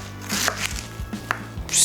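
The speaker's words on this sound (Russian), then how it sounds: "теперь я это дело все перерезаю на две части, чтобы у нас не было огромных капустных листов" Several sharp, irregular knife chops through cabbage leaves land on a cutting board in a kitchen, close and distinct, with no talking.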